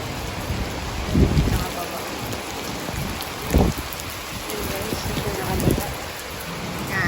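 Heavy, sudden rain pours down steadily in a dense, close roar, seen from a terrace, with a few stronger gusts and low rumbles swelling through it.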